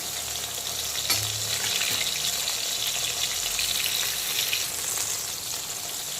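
Rui fish pieces fry in hot oil, giving a loud, continuous crackling sizzle that stays steady throughout with a few low bumps from the pan, and no voices.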